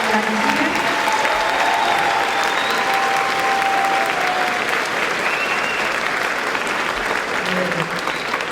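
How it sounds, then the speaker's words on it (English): A crowd in a high school gathering applauds Congresswoman Jackie Speier with sustained, loud clapping that stays full and even for several seconds, with faint voices mixed into the ovation. "So maybe one more round of applause for Congresswoman."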